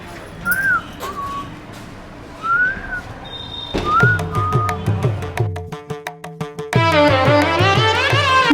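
A person whistles short rising and falling notes over background noise, then the whistling continues over loud, rhythmic music.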